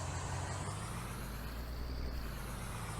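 A farm truck engine strains to pull a heavy load in a farming roleplay video game set during a Nebraska flood, a steady, loud, low rumble with a faint hiss on top.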